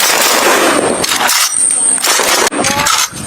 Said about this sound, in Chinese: 刚才我进行的是快反科目里面的本能反应射击